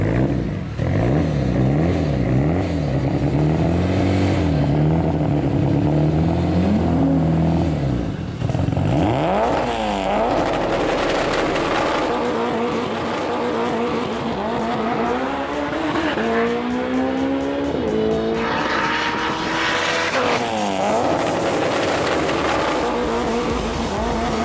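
Mitsubishi Evo race car with a 2.3-liter stroker engine, dry sump and massive turbo, plus a sequential gearbox, roars loud and close throughout, with repeated rising revs and gear changes as it accelerates hard.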